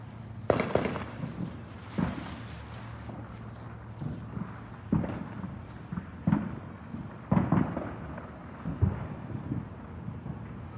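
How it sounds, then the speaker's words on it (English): Fireworks go off outdoors at night, about six booming bursts spaced unevenly over several seconds, moderately distant, with faint background noise between them. "She shouldn't worry about fireworks."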